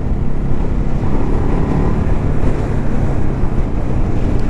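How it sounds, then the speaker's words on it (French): Strong wind buffets the microphone during a ride on a Ducati 950 Hypermotard motorcycle, a loud, continuous rumbling roar with gusty fluctuations and no talking. "c'est le vent terrible aujourd'hui"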